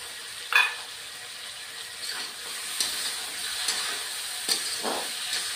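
Fish frying in a pan with ground white and black mustard paste and onion stalks, a steady close hiss with occasional spatters and soft stirring scrapes, no voice.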